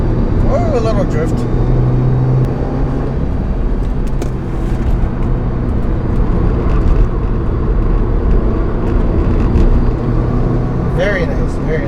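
A Subaru WRX Limited on full throttle, drifting, with a steady loud engine and road roar throughout and brief tire scrub sounds near the start and end, while people talk over it inside the car.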